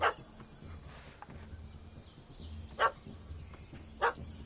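In the Witcher 3 game world, a dog barks three times: one sharp yap at the start and two more a few seconds apart, each short and fairly close over a quiet background hum.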